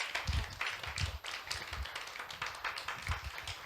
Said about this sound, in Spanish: Denle un aplauso al Cristo glorioso que nosotros servimos